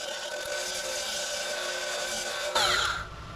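An angle grinder works over welds on the rear inner fender of a 1969 Dodge Charger, a steady high whine holding close and loud, then shifting pitch as the disc bites harder near the end.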